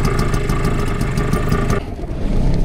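A boat's outboard motor runs steadily with a loud, rough mid-pitched drone and a rhythmic ticking, dropping slightly in pitch partway through as it settles.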